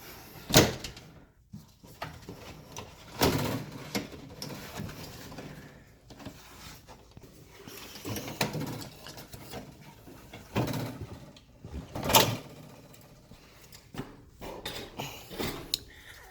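Trunk liner being pulled out of a Suzuki car, a scattered series of close scrapes, thumps and rustles of trim and fabric, with some louder knocks among the quieter handling noises.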